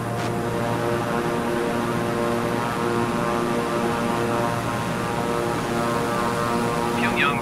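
A Beechcraft propeller plane in Microsoft Flight Simulator: a constant, close, loud engine and propeller drone with steady harmonic tones that hold level throughout, with a brief faint click near the end.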